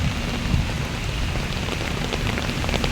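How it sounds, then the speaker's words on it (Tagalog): Heavy rain pouring down, a dense, loud, unbroken roar of drops on surfaces with a low rumbling undertone, close and steady. "Ulan."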